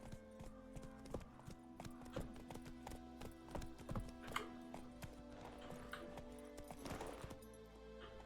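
A horse's hooves clip-clop steadily and close by in The Witcher 3, a quick regular trot with a soft background bed of game ambience.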